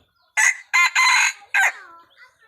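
A rooster crows nearby, one loud, clear cock-a-doodle-doo broken into several bursts that trail off into a fainter tail against a silent background.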